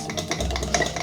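Sourdough starter on day 7 being stirred: a short burst of quick, soft scraping and sticky mixing strokes, close by and fairly quiet, lasting about a second.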